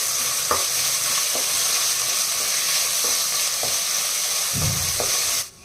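Ginger garlic paste frying in a pan, a steady bright sizzle throughout with a few soft scraping stirs, before the sound cuts off abruptly at the end.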